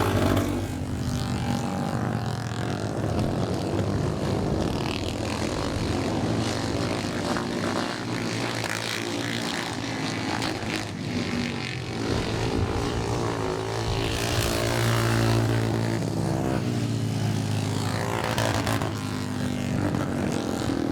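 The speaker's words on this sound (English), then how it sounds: "So still sounding a bit sick out there, a couple of those machines, but still powering away as we come round." Racing motorcycles on a grass track at Sitra, Iwade, some engines misfiring and running rough, make a continuous roaring drone that swells and fades as the machines circle past at middle distance.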